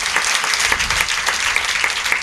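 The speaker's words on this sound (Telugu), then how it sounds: "సంతోషంతో చప్పట్లు కొట్టి దేవుని మహిమపరచండి." A church congregation clapping with joy in praise of God, dense continuous applause from many hands, loud and close throughout the short burst.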